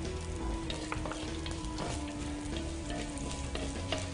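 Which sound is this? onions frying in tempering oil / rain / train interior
onions frying in tempering oil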